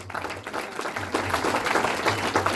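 Crowd applause for a winning player of an inter-feeder hockey tournament at a university National Sports Day celebration, a steady wash of many hands clapping at moderate volume with a low hum underneath.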